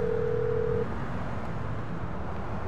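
A phone tone sounds in Grand Theft Auto 5, a steady single pitch lasting under a second before cutting off, leaving quiet low background rumble.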